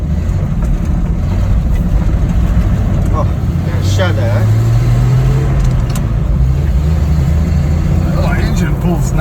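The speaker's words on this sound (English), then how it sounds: "engine pulls nice though" An old Ford F-Series pickup engine runs and revs while driving, a loud, steady rumble with a rising pitch in the middle, as voices talk over it.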